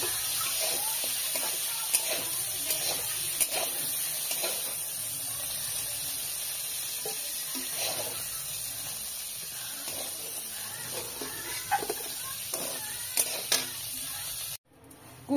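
Cabbage and potato sizzle and fry steadily in hot oil, a continuous crackling hiss with faint clinks of stirring throughout.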